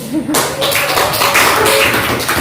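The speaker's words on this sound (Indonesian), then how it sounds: "Oke, tepuk tangan dulu." A school class claps together, a loud dense burst of many hands that goes on steadily and close, with a voice heard briefly at the very start.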